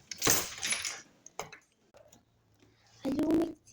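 Keys jingle and rattle as a door is unlocked and opened at home, with bursts of metallic clinking at the start and again near the end, quieter handling noises in between.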